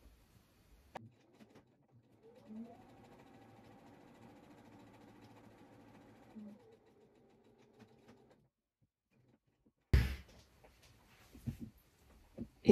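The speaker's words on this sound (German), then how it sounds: "Ich nähe jetzt bis zur Nadel, dort verriegel ich." A domestic sewing machine runs steadily for about six seconds while stitching a seam up to the needle, with faint handling clicks before and after and a louder rustle of fabric at the end.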